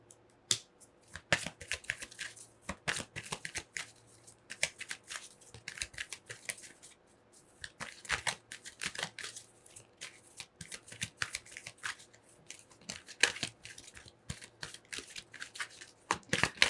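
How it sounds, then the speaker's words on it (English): Tarot cards being shuffled during a pick-a-card reading, a steady run of crisp, close riffling and flicking bursts over about seventeen seconds with short pauses, no voices. "we're going to shuffle one more time and see if we get any more cards"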